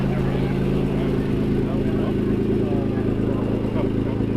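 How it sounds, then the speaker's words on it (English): An Acura NSX sports car drives by, its engine a steady loud drone with a strong low hum under faint background noise throughout. "Nice NSX going by right here"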